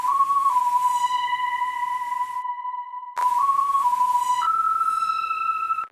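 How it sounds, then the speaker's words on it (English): A lead synth preset called Orange Soda from an Exorcist Serum bank plays a pure, whistle-like melody of long held notes with small pitch steps, clear and loud, broken by a short pause, with no speech. "This is the lead orange soda, and it sounds like this."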